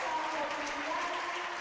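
An excited home crowd applauds and cheers as Gibraltar's netball team walks onto court for an international youth match against New Zealand, a continuous distant roar of clapping under a commentator's voice.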